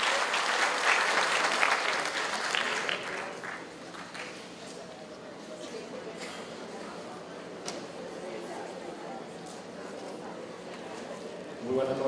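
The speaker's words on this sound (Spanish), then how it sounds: "Aplausos para el señor doctor Gavino Alfredo Espinosa Ortiz." An audience at a Lima bar association hall applauds a court president, loud clapping at first that thins into a quieter, steady patter for the rest.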